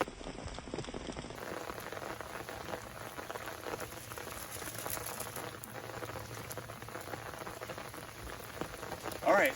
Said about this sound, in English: we see everybody's loving the rain right now